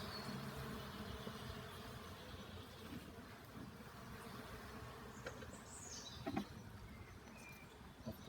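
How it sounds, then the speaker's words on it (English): Honeybees at a national beehive being smoked while the colony is split into a flow hive, giving a steady, soft, low buzzing hum throughout with a couple of brief clicks near the end. "Just smoke the bees down."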